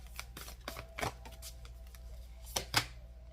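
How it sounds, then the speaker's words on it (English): Tarot cards being shuffled by hand, close and quiet, in a few crisp riffling bursts with short pauses between them and no voice. "Shuffle."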